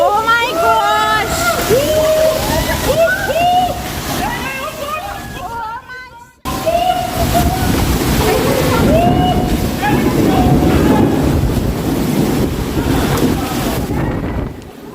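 Strong storm gusts buffet and roar continuously against the microphone in Couva, with excited voices shouting through the rushing wind and a brief drop-out midway.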